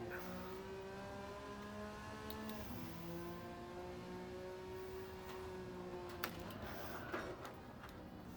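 A race car engine holds a steady high whine on the final lap in Gran Turismo, pitch dipping and climbing through a gear change and the last turn, continuous and close throughout.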